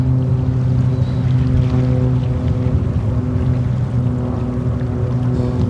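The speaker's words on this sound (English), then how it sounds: "It's gonna be British Airways 777-200" A British Airways Boeing 777-200 arriving from London Heathrow makes a loud, steady jet-engine drone with a layered low hum, sustained evenly throughout.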